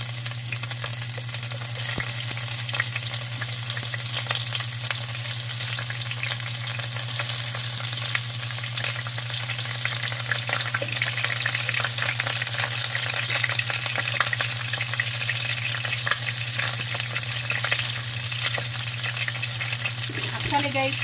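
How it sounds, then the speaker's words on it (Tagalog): Shrimp fry in a pan for a spicy garlic buttered shrimp dish, a loud, steady sizzle with occasional stirring scrapes running throughout without pause. "I-fry natin saglit yung ating shrimp para lang mag golden"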